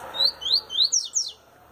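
A coleiro songbird sings a quick series of five bright, rising chirped whistles in close succession, clear and near, followed by quiet background.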